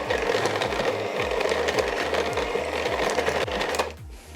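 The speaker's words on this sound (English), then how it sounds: "So I'm going to give it a very quick whisk." A mixer quickly whisking egg into peanut M&M cookie dough, a loud, close, rhythmically pulsing motor whir that cuts off just before the end, no talk.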